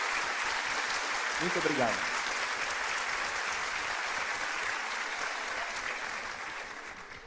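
A lecture audience applauds a professor after his talk on people management, with steady, dense clapping that lasts throughout and fades slightly at the end. Someone briefly speaks over it near the start.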